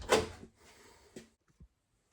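A door to a toy tractor room is pulled open with a short creaking scrape and rustle, followed by a couple of soft knocks as it settles, close and quiet.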